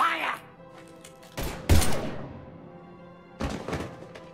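Gunfire in the video game Mass Effect 3, a few heavy thumping bursts spaced apart over a low background hum, loud and close.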